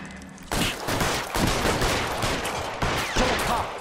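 Sustained gunfire from the L.A. Noire video game, a dense fusillade of rapid shots with repeated loud bursts running continuously under no talk, close and harsh throughout.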